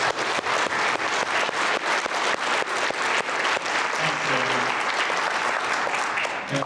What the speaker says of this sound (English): I want to give them a big warm round of applause.